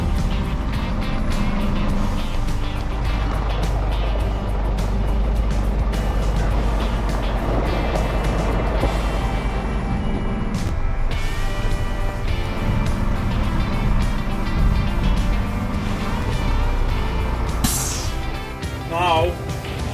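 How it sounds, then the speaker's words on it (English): Scania hooklift truck engine labouring through a hill start on a rough road to a Scottish fish farm, a loud steady low drone throughout with someone talking over it. "Hill start is a nice thing in my Volvo, and this Scania, that's a hill start."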